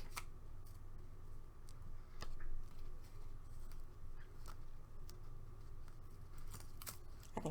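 Scissors snip through paper pieces for a card hat at a craft table, faint crisp cuts repeating irregularly against a quiet room background.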